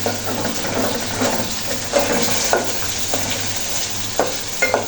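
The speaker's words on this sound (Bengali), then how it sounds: "এইভাবে ভেজে নেব মাছের পেটিগুলো" Pieces of mrigal fish belly, with small roe attached, fry in oil with a steady close sizzle, broken by the clatter of stirring and occasional spatula scrapes against the pan.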